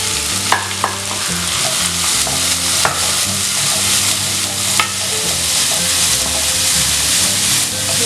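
Sliced onion and green chilli sizzle in hot coconut oil while being stirred, a constant dense frying hiss with occasional sharp clicks of a spoon against the pan, no talking.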